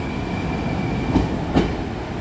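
A Moscow metro train of type 81-765 pulling into a station: a steady low rumble of rolling wheels and rail noise, with two brief louder clacks near the end, heard close with no speech.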